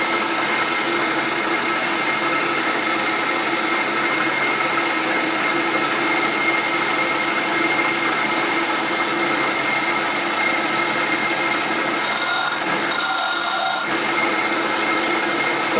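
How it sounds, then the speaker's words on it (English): A metal lathe drills into a workpiece with a dull bit, giving a steady whining, grinding drone with a faint scraping rise near the end, heard without talk. "That doesn't sound like a very sharp bit."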